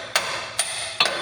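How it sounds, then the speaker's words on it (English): Three sharp metallic hammer strikes on a Mack truck brake anchor pin ring out loud and close, spaced about half a second apart, each with a brief ringing tail over steady shop background. "Can I hammer this anchor pin out of there, Shave?"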